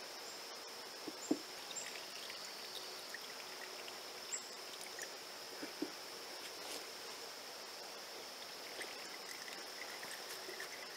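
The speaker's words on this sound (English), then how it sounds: "Your next thing is to pour in and try to filter off some of the sediment." Water poured slowly through a dish towel into a pint jar makes a soft, steady trickle, with insects chirping continuously in the background.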